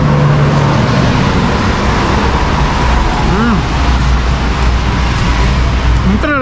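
Dense road traffic rumbles through a traffic jam in Mexico, with a steady wash of engines and tire noise, a few short squeals or horn-like tones in the middle, and talking running underneath.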